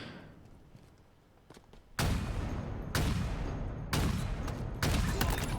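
Sniper rifles fire in a Halo Team Snipers match: four loud, sharp shots about a second apart, each ending in a booming tail, after a quieter stretch of game sound.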